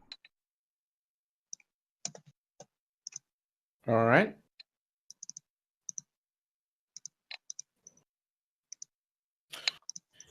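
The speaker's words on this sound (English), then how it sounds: "I'm just typing stuff." Keyboard typing during a tabletop game session: sparse, faint scattered key clicks in a quiet room, with a short spoken phrase in the middle.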